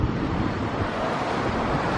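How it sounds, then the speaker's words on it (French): Steady outdoor wind buffets the microphone in a Japanese town on a cloudy, dry day, a continuous low rumbling roar with broadband hiss and no pauses. "Il y a un peu de vent par contre."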